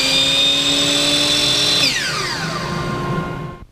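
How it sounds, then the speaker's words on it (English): A workshop chop saw spins with a high whine while a Shop Vac runs alongside, loud and close, then the saw is released and its tone glides downward as it spins down, leaving a fading hum. "I turn the chop saw on and Shop Vac will fire"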